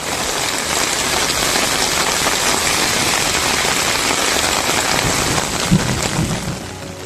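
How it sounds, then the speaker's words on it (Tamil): Heavy rain pours down steadily in a downpour in Tamil Nadu, a dense, loud, unbroken hiss of rain on surfaces that holds at the same level throughout, with no voices. "கொட்டி தீர்த்த மழையால் தெருக்களில் மழைநீர் பெருக்கெடுத்து ஓடியது."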